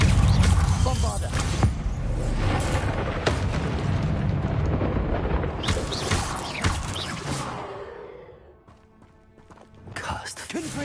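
Bombarda spell blasts in the video game Hogwarts Legacy, rumbling explosive bursts and crashes under a dense game soundscape. A voice speaks over them, the sound fades briefly, then it picks up again.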